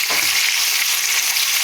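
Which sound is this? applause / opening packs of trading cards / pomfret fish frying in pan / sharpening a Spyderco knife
pomfret fish frying in pan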